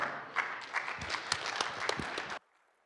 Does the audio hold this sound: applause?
yes